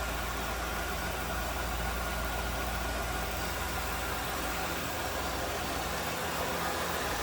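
A 1995 Cadillac Sedan Deville's 4.9 liter V8 idles steadily and smoothly, a constant low rumble with no revving or change in pace throughout.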